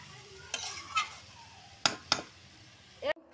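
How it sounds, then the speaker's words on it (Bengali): Cumin and coriander seeds roasting in a dry pan, with a low steady sizzle and a few sharp scraping stirs of a utensil against the metal, close by. "তরকারিতে দেবো জিরে আর ধনে ভেজে গুঁড়ো করে নেবো।"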